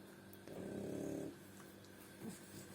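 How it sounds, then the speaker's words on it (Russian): A French bulldog named Oleg snores while asleep: one loud, drawn-out rasping snore, followed a moment later by a softer, shorter snort, close to the microphone with no talking. "Он достаточно громкий, и это храпит французский бульдог."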